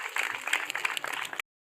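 Audience applause at a public event in Burera district, Rwanda, launching a week of hygiene, sanitation and security: dense, steady clapping from a crowd that runs about a second and a half, then stops abruptly.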